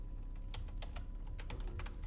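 Fingers type on a computer keyboard, a quiet run of irregular close clicks and taps over a low background hum, with no voices.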